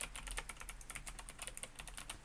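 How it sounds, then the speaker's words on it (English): Fingers tap rapidly on a computer keyboard during a VRChat stream, a steady patter of soft clicks heard up close and fairly faint, with no voices. "Can you guys actually hear the keyboard?"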